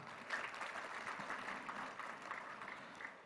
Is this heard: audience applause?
yes